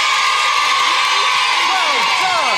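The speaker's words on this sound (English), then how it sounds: "A big round of applause, please." A TV game show studio crowd cheering and clapping, with excited children's shouts and whoops rising over the noisy din.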